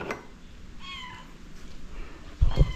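A cat meows a couple of times, fairly close, with soft thumps and rustling toward the end.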